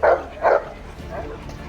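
An Alabay dog at an open-air dog market gives two sharp, loud barks in quick succession, followed by a fainter third yelp, close by.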